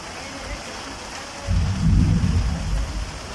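Steady rain hisses during a storm, then a deep rolling rumble of thunder swells in partway through and lingers, heavy and low against the constant patter.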